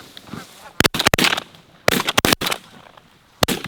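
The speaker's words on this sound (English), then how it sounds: "Good shooting." Shotguns fire during a duck and goose hunt in Canada, several loud sharp blasts in quick clusters, some overlapping, with faint goose honking and calls between volleys.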